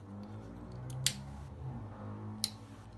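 Scissors snip thread close to a knot while sewing a shell-shaped leather bag, two crisp, near cuts about a second and a half apart over a quiet room hum.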